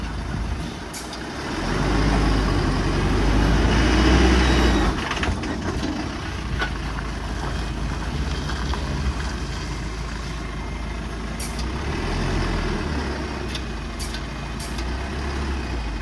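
A Bharat Benz truck idles and rumbles at a loading point, engine noise steady and fairly loud throughout as it shifts back and forth, with a brief swell in the low drone early on and a few sharp clicks or hisses.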